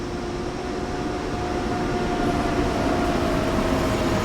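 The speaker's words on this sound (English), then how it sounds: "Now we can hear the train passing." Austrian railway train rolling past on the track, a loud, steady rumble with a sustained tonal whine, continuous throughout with no talking.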